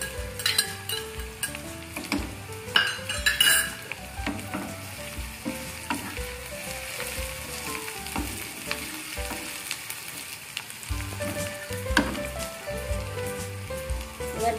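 Chopped green chillies hit hot oil in a home curry pan, giving a loud, steady sizzle with stirring and occasional pan clatter over faint background music; no talking.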